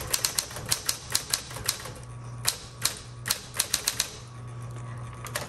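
A 1970s Smith Corona Coronet Electric 12 typewriter clacks through a run of sharp key strikes, close and distinct, with a low electric motor hum and brief backspace pauses between bursts.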